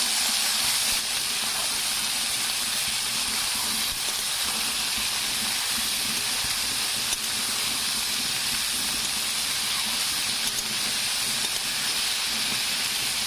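Mixed vegetables with salt and whole cumin stir-frying for veg chowmein, a loud continuous hiss of steam and sizzling from the pan that holds steady throughout, close by and with no voices.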